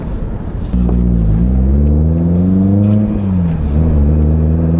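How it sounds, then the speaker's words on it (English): A 1983 Lotus Esprit engine runs steadily and loud, its low harmonic drone rising and falling slightly with small rev changes after a sudden start, with no talk over it. "as I take this 1983 Lotus Esprit through the process of registering it as an historic vehicle"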